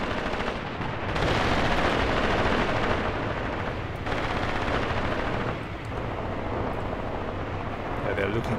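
Dense machine-gun bursts and mortar and artillery blasts in the Graviteam Tactics war game roar almost continuously, loud and layered, with someone talking over the gunfire.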